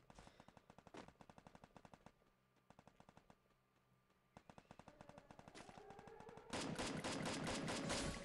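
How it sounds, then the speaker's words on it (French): Rapid automatic gunfire from the Free Fire battle royale game, bursts of sharp shots in quick rhythmic strings with short lulls, building to a dense, loud continuous volley at the end. "Ça tire dans tous les sens là"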